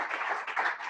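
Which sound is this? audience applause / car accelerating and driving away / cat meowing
audience applause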